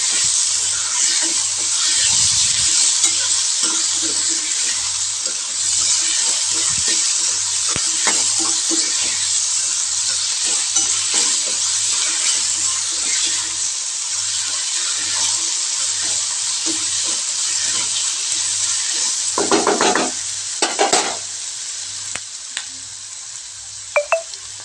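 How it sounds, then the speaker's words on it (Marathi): Tomato and onion frying together in a pan, a continuous hissing sizzle with occasional stirring scrapes and a brief louder burst of clatter near the end, no one talking. "आणि टोमॅटो कांदा मिक्स तळू देते आता व्यवस्थित छान."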